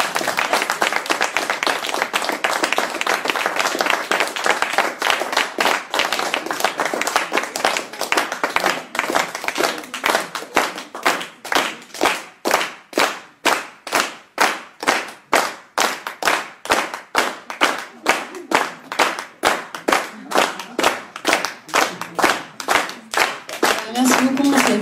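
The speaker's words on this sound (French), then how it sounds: "Et on applaudit François." A concert audience claps at a small show, starting as a dense applause wash and settling into loud, rhythmic clapping in time, with a few voices underneath.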